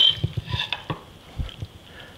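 A big casserole dish handled on a kitchen counter gives a string of light clinks and knocks, a few quick taps followed by scattered sharper clatters, close and fairly quiet.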